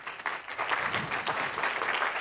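A conference hall audience claps for an arriving speaker, a steady patter of many hands of moderate loudness, slightly distant, filling the whole moment without voices.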